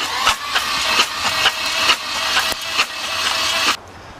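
A flooded car engine with its spark plugs removed cranks over without compression, a loud close whirring of the starter with rhythmic surges about twice a second before it cuts off abruptly near the end.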